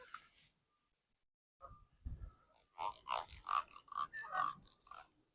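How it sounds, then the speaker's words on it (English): Low grunting croaks from a channel catfish pulse in a rapid run of about eight bursts, close and fairly loud, after a quiet gap and a few faint noises. "This one is croaking."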